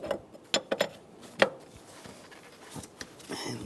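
An 18mm wrench works loose a transmission oil cooler hose fitting on a 1999-2006 Chevrolet, giving sharp metallic clicks and clanks in an irregular cluster, close and fairly crisp, then quieter scraping.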